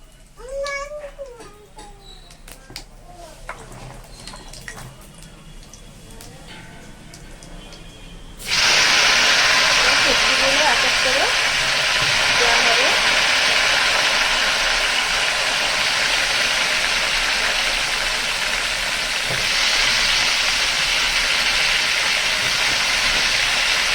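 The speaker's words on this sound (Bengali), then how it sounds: "কড়াইতে পরিমাণ মতো তেল আর জিরা ফোড়ন দেওয়া হয়েছে এবার তেজপাতা দেওয়া হলো" Cumin seeds and bay leaf hit hot oil in a wok and set off a sudden loud, steady sizzle that keeps hissing strongly. Quieter kitchen sounds and a voice come before it.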